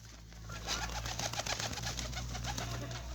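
Soft pigeon cooing and rustling over a steady low hum, with faint bird movement throughout; no talking.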